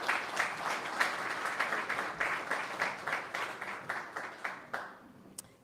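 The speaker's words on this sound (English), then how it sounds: "let's give Jessica a round of applause" An audience gives a round of applause at a tech talk, a rhythmic wash of many hands clapping that pulses evenly and then thins out and fades near the end.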